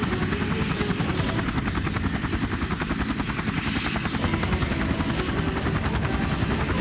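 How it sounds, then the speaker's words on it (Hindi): A helicopter drones loudly and continuously, its rotor thudding in a rapid, steady pulse throughout. "तभी हेलीकॉप्टर की आवाज आने लगी।"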